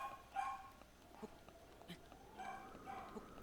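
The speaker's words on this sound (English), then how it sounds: "Can you guys hear my dogs barking?" Indoor dogs bark and yip faintly in short, scattered bursts, quiet and somewhat distant, over low background noise.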